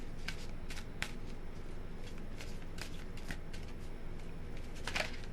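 Wide tarot cards being shuffled by hand, a run of soft papery riffles and flicks in quick uneven bursts, close but fairly quiet over a faint background hiss, without speech.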